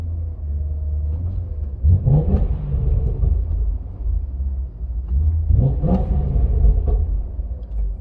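A catless BMW E39 M5 idles with a deep, steady rumble, swelling twice into brief revs before settling back; no talking.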